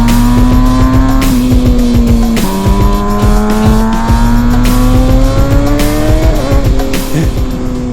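A high-revving engine that spins to 18,000 RPM screams loudly and continuously, its pitch climbing in repeated rising sweeps with brief dips between, close and dominant throughout.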